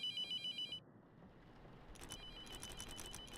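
A phone ringing inside a video game, a repeating electronic ring tone heard loud and close in short pulses that stop partway through, followed by a quieter ambient hum with faint game sounds.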